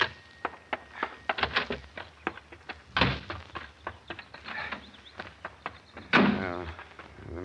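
Door sound effect from an old-time radio detective drama: a series of sharp clicks and rattles from a door handle and latch, a heavy thunk partway through, then a louder bang as the door swings open, all close and without talk.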